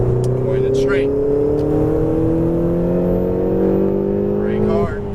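A Ferrari 488 GTB accelerates on a race track, its engine close and loud with a steady, rising note held for about five seconds before easing off at the end.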